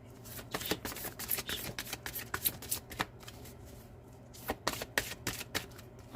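A deck of tarot cards is shuffled close up, giving a run of crisp riffling flutters and soft slaps that come in quick, uneven bursts with a brief lull partway through.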